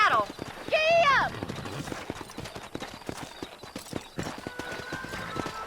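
A horse whinnies in the video game Red Dead Redemption, then rapid hoofbeats clip-clop in a steady galloping rhythm, close and fairly loud, with faint background music.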